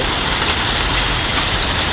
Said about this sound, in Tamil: அதே ஒரு பாட்டில் இன்னும் ஐஸ் மழை பெஞ்சிட்டு தான் இருக்குது.